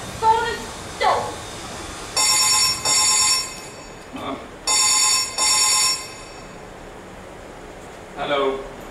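A telephone rings on a stage set during a performance of the play God of Carnage: repeated bursts of an electronic ring in pairs, loud and close, with brief voices between the rings.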